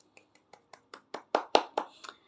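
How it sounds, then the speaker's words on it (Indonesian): Hand claps in a classroom for a student named Andi after he presents his answer, a sparse few claps that quickly swell into brief, louder applause from the class before fading out. "mari kita beri tepuk tangan kepada Andi"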